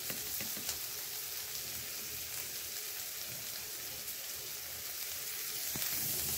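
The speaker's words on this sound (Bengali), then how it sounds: "এখানে আমি পেঁয়াজের পাতা, টমেটো, কাঁচামরিচ একটু ভেজে নিচ্ছি" Chopped spring onion greens, tomato and green chili fry in hot oil in a pan, giving a steady, dense sizzle that stays even and fairly loud throughout, with no talking.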